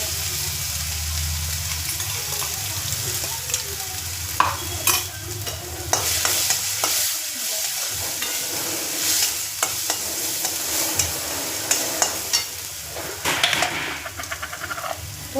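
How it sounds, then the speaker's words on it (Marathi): A spiced vegetable filling for patties is stirred in a hot pan: repeated scraping spoon strokes over a steady sizzle of frying, close and fairly loud, with no voices. "थोडंसं हलवून घ्यायचं आहे ना."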